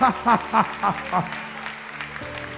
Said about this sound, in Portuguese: Alguém aplauda ao Senhor por essa palavra.